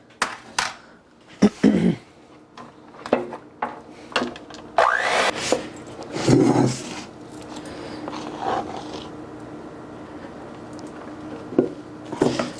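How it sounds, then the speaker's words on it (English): Batter for high-protein bread rounds stirred in a bowl before folding into egg whites: irregular scraping and knocking strokes, close and moderately loud, then settling into a steadier, quieter rubbing swirl. "I'm going to go ahead and give this a mix"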